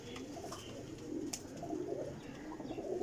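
Pigeons coo softly nearby, with low, rolling calls repeating under a faint background of other birds. No one talks.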